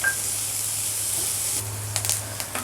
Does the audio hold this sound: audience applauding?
no